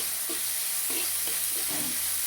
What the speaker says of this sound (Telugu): ఉల్లిపాయ ముక్కల్ని దోరగా వేపుకోవాలి.